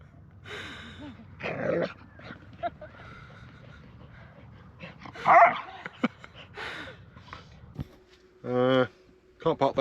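A dog barks, yips and whimpers while running about at the edge of sand dunes in the Sahara, Morocco, with a few sharp close barks among scattered movement noises and a brief voice.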